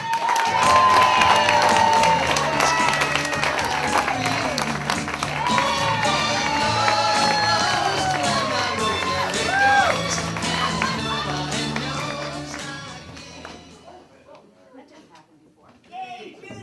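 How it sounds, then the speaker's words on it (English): A stand-up comedy audience at the Camino Real Playhouse applauds and cheers comedian Judy Mastracchio, a loud, dense crowd sound with voices mixed in that holds steady and then fades near the end. "let's have a nice round of applause for Judy Mastracchio"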